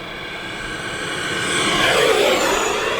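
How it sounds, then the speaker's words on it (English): An E-flite F-18 radio-controlled 80mm ducted-fan jet roars past with a rising whine and a broad rushing swell that peaks midway, then holds loud as it passes close by. "you did not get to hear this sound, listen to this pass"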